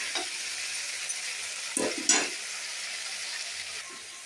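Fish pieces with a little salt and turmeric frying in hot oil, a steady close sizzle and hiss running throughout with a couple of brief louder bursts midway as the pieces are moved.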